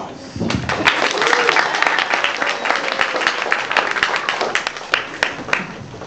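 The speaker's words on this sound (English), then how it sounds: "Give him a round of applause." Audience at a school Halloween show clapping steadily, a dense continuous wash of applause with scattered louder claps, some voices mixed in throughout.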